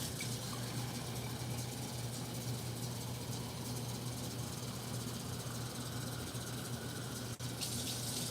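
Tap water runs steadily into a cooking pot as four cups are measured out for meal prep, a continuous close rushing stream over a low hum with no talking.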